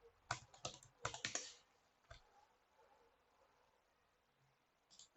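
Password typed on a computer keyboard, a quick burst of close, crisp key clicks followed by a single later tap and a final keystroke, quiet room.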